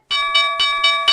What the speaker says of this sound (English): There is the closing bell